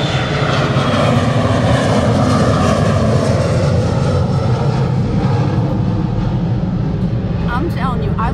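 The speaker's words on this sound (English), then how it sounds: "Here comes another airplane." An airplane passes low overhead near San Diego, its engine roar loud and steady throughout and swelling slightly as it goes by, with faint birdsong high above near the end.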